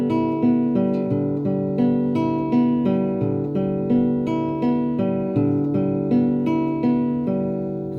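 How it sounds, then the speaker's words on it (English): Four open guitar strings are fingerpicked with thumb, index, middle and ring fingers in a steady, even repeating pattern, each note ringing clearly and cleanly with no voice. "if you just play the open strings, it should sound like this"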